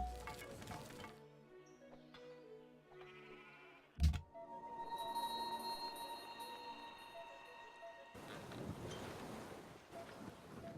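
Open-water ocean ambience from the strategy game Civilization 5: a steady wash of surf and wind with soft waves, a brief sharp bump midway and swelling noise near the end, with no voices.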